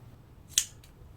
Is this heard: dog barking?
no